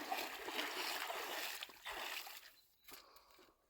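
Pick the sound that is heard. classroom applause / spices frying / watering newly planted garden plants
watering newly planted garden plants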